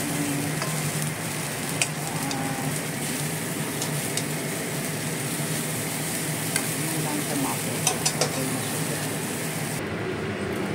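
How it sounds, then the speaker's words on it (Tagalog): Shrimp wontons toasting in a pan give a steady, close sizzle with occasional stirring clicks and scrapes, continuing throughout, while a person talks over the cooking. "okay na yung shrimp wonton toasting"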